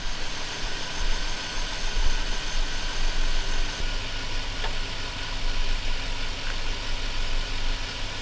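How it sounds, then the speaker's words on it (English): A truck engine idles steadily with a low, rumbling drone and faint knocking, continuous and fairly loud throughout. "continue looking at the truck as it's idling"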